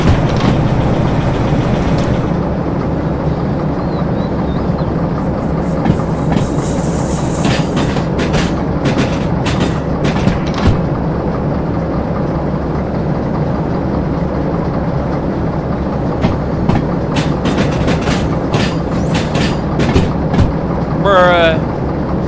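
A train rolling along the line in Derail Valley, with a steady loud rumble and repeated clickety-clack of wheels over rail joints, a brief hiss near the end and talk mixed in.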